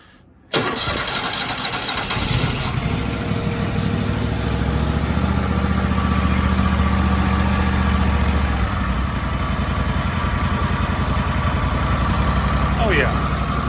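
A Kohler engine on a Grasshopper 227 mower cranks and catches about half a second in, then settles into a steady, loud idle that runs on evenly, with a faint voice near the end.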